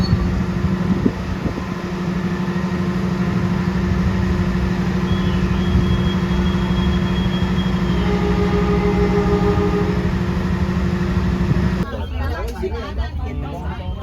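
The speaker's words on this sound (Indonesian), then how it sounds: "Pukul 10:29 kereta api telah berangkat dari stasiun Prupuk" An economy-class KA Bengawan train departs Prupuk station, a steady mechanical hum with tonal drones and a high squeal drifting in midway. The sound shifts abruptly near the end.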